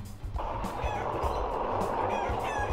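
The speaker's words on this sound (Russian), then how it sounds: "Так, курочки обратно вернулись." A flock of chickens in a video game clucks and squawks continuously in a busy, close chorus.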